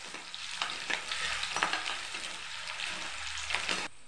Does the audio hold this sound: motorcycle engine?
no